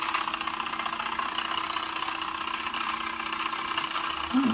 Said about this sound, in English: And now when you shift it over, it's idling faster.